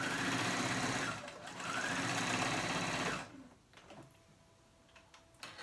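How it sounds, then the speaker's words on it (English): A sewing machine tacking down fabric on a top, a fast steady mechanical whir that runs loudly and close for about three seconds, then stops, leaving quiet room tone with a few small clicks. "Just tacking it down."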